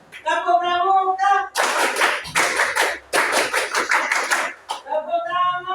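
A group performs the Indonesian scout clap, rhythmic bursts of clapping in set patterns separated by short pauses, with a chanting voice before and after.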